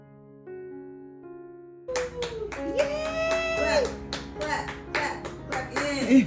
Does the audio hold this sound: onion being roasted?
no